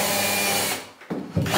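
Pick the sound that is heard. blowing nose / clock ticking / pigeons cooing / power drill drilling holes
power drill drilling holes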